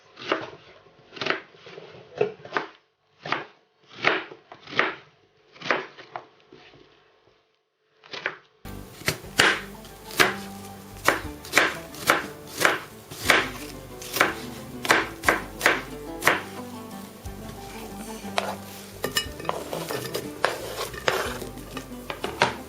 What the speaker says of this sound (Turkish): Normal soğanımızı, kuru soğanımızı iri bir şekilde doğruyoruz.